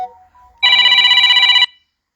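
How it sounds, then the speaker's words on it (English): An incoming call sets off a loud electronic phone ringtone, one bright warbling burst about a second long against near silence. "So I have a phone call"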